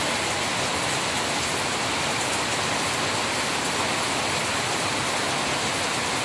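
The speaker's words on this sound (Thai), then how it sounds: "ฝนเริ่มตกอีกแล้วนะครับ" Heavy storm rain pours steadily over Bueng Kan, a dense, unbroken roar of falling water close by, with no voices over it.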